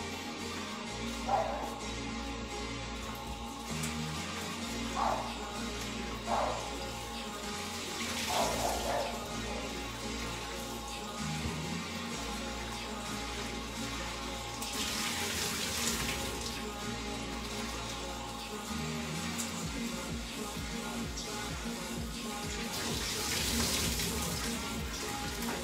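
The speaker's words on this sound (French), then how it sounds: "on va les rincer à l'eau chaude comme dit Justine" Freshly cut potato fries rinsed under hot running tap water, a continuous splashing flow with occasional clinks and louder gushes as the fries are moved about.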